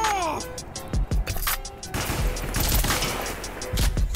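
Rapid gunfire from a fast-firing weapon in a video game, sharp loud shots in quick irregular bursts with brief pauses between volleys, close and prominent over background game noise.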